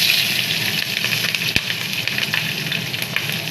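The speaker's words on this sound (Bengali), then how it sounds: "ওই তেলে এবারে জিরে ফোড়ন দিয়ে দিচ্ছি" Steady, close hiss and crackle of cumin seeds sizzling in hot oil, continuous throughout with small pops.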